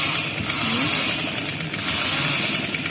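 A sewing machine stitching a plain shalwar runs in a continuous, fairly loud mechanical whir with a fast, steady rhythm from start to end.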